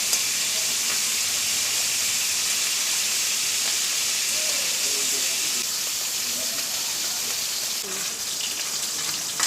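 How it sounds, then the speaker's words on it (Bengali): Hilsa fish head and tail fry in hot oil until crisp, a continuous close hiss and crackle of sizzling that stays steady throughout, with a voice talking faintly beneath it. "লেজার মাথা একদম মুচমুচে করে ভাজতে হবে প্রথমে"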